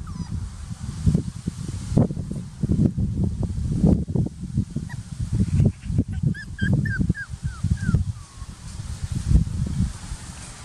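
Six-and-a-half-week-old puppies whimpering and yelping in short high cries against a background of shuffling and handling noise, close and fairly loud, with no talking over them.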